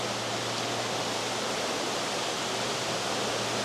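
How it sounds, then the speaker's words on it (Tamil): Rushing water from a waterfall near a glass enclosure in Quebec, a dense, steady roar that fills the whole stretch, loud and unbroken, with no voices. "சத்தமே உங்களுக்கு விளங்கும் இது ஒரு நீர் அருவி நிறைந்த பகுதிக்கு வந்த மாதிரி ஒரு ஃபீல் உங்களுக்கு இருக்கும்"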